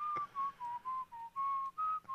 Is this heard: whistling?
yes